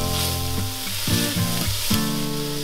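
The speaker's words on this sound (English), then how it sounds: "We're just gonna cook this until we can smell the garlic." Minced garlic, four cloves, with salt, pepper and red pepper flakes frying in a pan, a loud close continuous sizzle with a few clinks of a utensil stirring.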